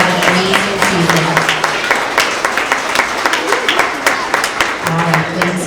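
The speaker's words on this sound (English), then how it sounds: "Give these girls a round of applause" A school award assembly audience applauds a girls' team with sustained, fairly loud clapping from a crowd, while a voice talks over it.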